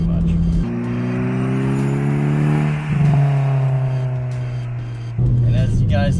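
A Mitsubishi Evo 2 GSR with the 4G63 engine accelerates hard, its steady harmonic engine note climbing through the gears with a brief dip at a shift, loud and close from inside the car.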